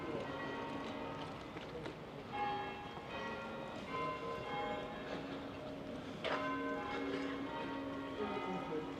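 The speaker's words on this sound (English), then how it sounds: "They're ringing the bells for me." Church bells peal in Wells, Somerset, ringing steadily from a distance in layered tones over constant outdoor street background.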